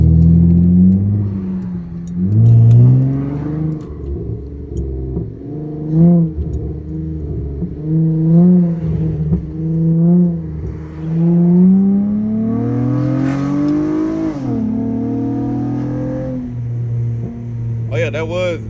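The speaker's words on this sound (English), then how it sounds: "A lot of y'all been thinking that I got some type of crazy exhaust because my car is so damn loud." A loud car engine revs hard in repeated surges, pitch climbing and falling with each throttle blip, close by and continuous.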